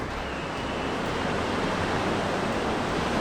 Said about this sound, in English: we're just watching all the waves roll in as the wind is bringing in a storm